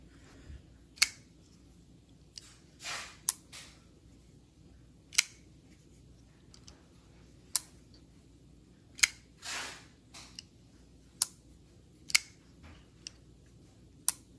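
Reich P138-B folding knife being opened and closed indoors, giving sharp isolated metallic clicks and snaps at irregular intervals of about one to two seconds, fairly faint against a quiet room hum.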